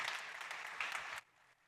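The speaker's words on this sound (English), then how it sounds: "Please, big applause for Jorge." Audience applause for a startup pitch presenter at a mobility and smart cities startup competition, a dense wash of clapping that runs steadily and then drops off abruptly partway, leaving a faint room tail.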